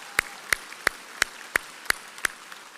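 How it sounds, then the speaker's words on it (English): Slow, evenly spaced single claps, about seven in a row, ring out sharply and close at a San Jacinto College commencement ceremony, with quiet between each strike instead of full crowd applause. "let's give them a round of applause"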